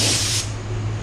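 A spray gun painting a car hisses in a loud burst that eases off after a moment, leaving a softer steady spray with a low hum underneath.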